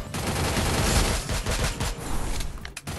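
Rapid gunfire in the mobile battle royale game Free Fire, loud, close bursts of shots rattling almost continuously for a few seconds.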